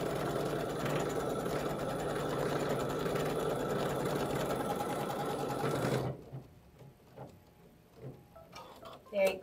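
An embroidery sewing machine stitches fabric held in a hoop, a steady dense mechanical whir running for about six seconds before it stops, leaving faint handling clicks and small knocks.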